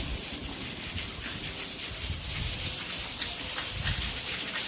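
Rain falls steadily onto outdoor steps during an early May storm, an even close hiss of drops pattering on hard surfaces, fairly quiet and continuous, with no talking.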